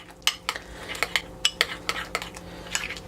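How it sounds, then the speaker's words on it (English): A spoon mixes protein powder into a bowl of oatmeal, making a quick run of sharp, close clinks and scrapes against the bowl, about ten strokes in an uneven rhythm. "I'm gonna put that in, mix that up. So this gets the oatmeal a little thicker too."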